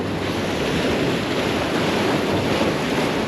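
Surf and fast tidal water rush under a bridge on the Southern California coast, a steady close wash mixed with wind buffeting the microphone, with no speech.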